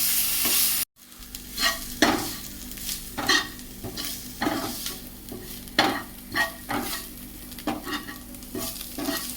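Ginger garlic paste sizzling in a hot pan, steady frying hiss broken by repeated scraping and stirring strokes of a spoon against the pan, close and clear with no talk.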